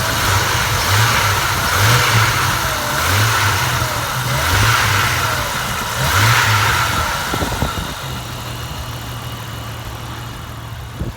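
1998 Jeep Grand Cherokee with the 4.0 engine running while driving, a steady engine drone rising and easing in repeated pulses, then settling to a constant tone near the end.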